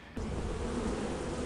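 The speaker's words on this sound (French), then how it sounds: "Les abeilles vont vouloir venir vers toi." A swarm of bees buzzes in the Lethal Company video game, a dense, steady droning hum that starts abruptly and stays close and loud for a brief moment.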